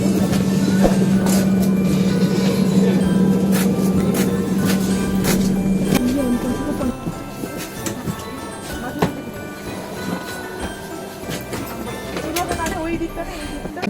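A steady rumble from a moving train with scattered clicks and clacks, continuous throughout, with a voice talking over the noise.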